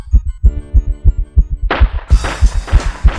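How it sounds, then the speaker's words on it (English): A heartbeat from the Haunting starring Polterguy video game thumps in a steady, close double rhythm. Partway through, a bright hissing noise comes in and plays over the beats. "Listen to his heartbeat."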